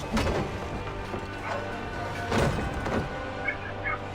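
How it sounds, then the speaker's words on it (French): A dog barks in the video game Assassin's Creed Revelations, a few muffled barks spaced out under busy game ambience and background noise. "Tuez ce chien! Abattez-le!"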